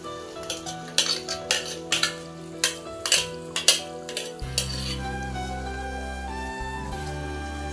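A ground paste is stirred into sautéed tomatoes for chicken biryani gravy, with a quick run of metal spoon clanks and scrapes against the pan. A steady sizzling hum follows, close, with no talking.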